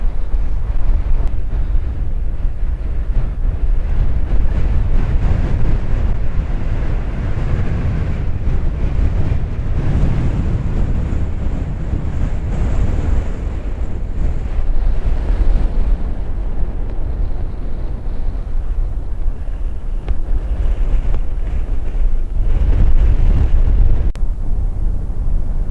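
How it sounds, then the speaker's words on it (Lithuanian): Strong winter wind buffets the microphone on an exposed hilltop on the walk up to Mam Tor from Castleton, a loud, continuous low roar with gusts that swell and ease, and no voices. "Vėjas"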